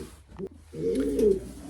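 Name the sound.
racing pigeon cooing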